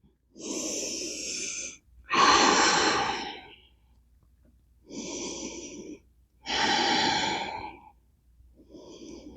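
Slow, deep yoga breaths, alternating long inhales and exhales, four full breaths close and clear in a quiet room, each lasting one to two seconds, with a fifth beginning at the end.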